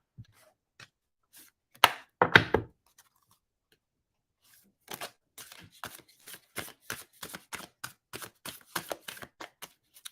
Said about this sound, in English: I love this deck, and it shuffles nicely